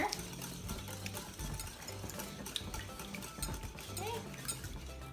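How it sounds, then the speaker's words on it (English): Eggs whisked in a bowl for a breakfast burrito, a steady scraping, clinking stir with a whisk or fork that runs continuously at moderate loudness against faint kitchen background. "whisk your eggs, usually with a whisk, or you can do this with a fork if you don't have a whisk"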